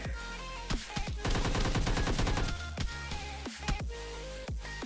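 Rapid gunfire in PUBG Mobile Lite, with bursts of shotgun and automatic fire, loud and close, including a dense rattling volley in the middle followed by separate sharp shots.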